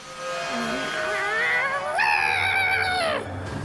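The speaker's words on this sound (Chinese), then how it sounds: "快看，一只小猫！" A kitten meows in an anime scene, a few rising and falling cries in close succession, the last one longer and louder, over a low background.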